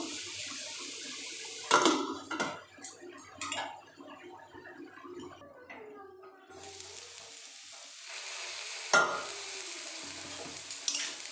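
Bean curry being stirred in a pot, with a few loud clanks and scraping knocks from the utensil amid hissing and gentle bubbling, close by, with a voice speaking softly in between.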